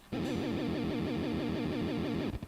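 Sustained electric guitar warbles heavily in a fast, regular wobble, deep pitch modulation pulsing throughout before it cuts off.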